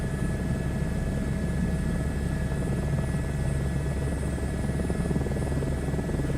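An H125 helicopter in a flight simulator game, a continuous loud rotor thump and turbine whine holding steady throughout, with no talking.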